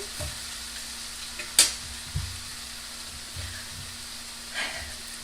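Okra frying in an iron skillet gives a soft, steady sizzle at low level, with a few stirring clinks and scrapes and one sharp metallic tap near the start.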